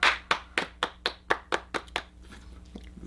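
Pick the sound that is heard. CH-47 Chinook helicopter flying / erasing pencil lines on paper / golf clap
golf clap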